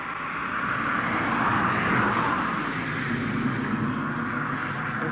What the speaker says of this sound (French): J'entends un bruit, mais je pense que c'est un avion.